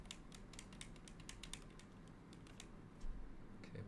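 Quick, uneven keystrokes on a computer keyboard, close and fairly quiet, clicking in irregular bursts with no talking.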